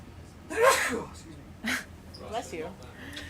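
A single sharp human sneeze bursts out nearby, followed by a couple of softer breaths or small vocal sounds in a quiet room.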